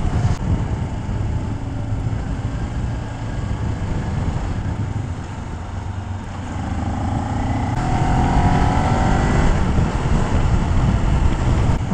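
A Kawasaki Ninja 400 motorcycle is heard while riding as a continuous engine drone under heavy wind rush. The pitch climbs steadily toward the end as the revs build.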